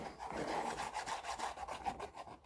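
Steady back-and-forth rasping strokes of a small wooden treasure chest's surface being smoothed down, close and fairly loud, repeating in an even rhythm with no talking.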